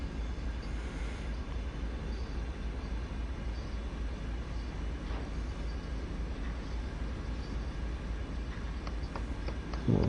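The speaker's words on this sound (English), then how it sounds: "Train's cruising along nicely." CSX C40-8W diesel locomotive cruising in Train Sim World 2, a steady low rumble with rail noise that holds evenly throughout, moderately loud with no talk.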